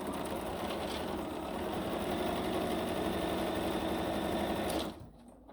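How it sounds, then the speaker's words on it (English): A sewing machine stitches quilt fabric along a marked line, a steady, fast mechanical whir running close up for about five seconds and then stopping abruptly, with no talk. "because I'm just sewing on the line"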